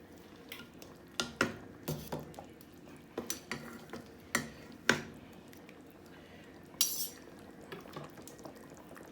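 A knife pulls apart cooked chicken in a pot, a series of soft clinks, scrapes and wet squishes in irregular bursts, fairly faint and close.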